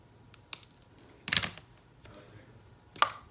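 Scissors snip off the stem of a paper shamrock die-cut for a St. Patrick's Day card, giving a few quiet, sharp clicks and short cutting sounds spread across a few seconds, close to the mic in a quiet room.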